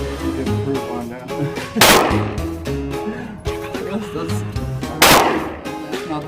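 Two loud sharp pistol reports from a Walther PDP fired at about 5 yards on a range, sounding over music that plays throughout.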